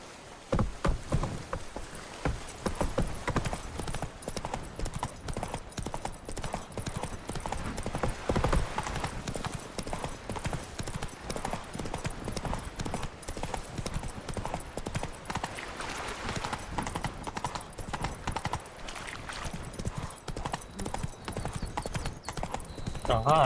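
Horse hooves clip-clop at a steady trot through the full stretch in The Witcher 3 video game, with faint game ambience and occasional voices underneath.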